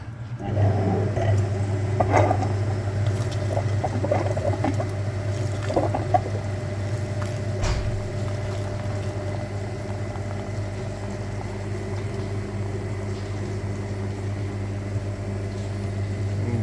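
A coolant-system flushing machine runs on a VW Passat 1.8 TSI with a steady low motor hum and faint liquid trickling, constant and close, with a few soft clicks early on and no speech.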